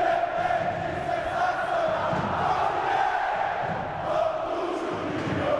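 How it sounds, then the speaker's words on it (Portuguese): Vasco football fans fill a stadium with a loud, sustained roar of chanting and cheering during a Copa Sudamericana match against Aurora. A dense, far-off crowd wash holds steady throughout, with no single voice standing out. "Vamos curtir a festa da torcida do Vasco."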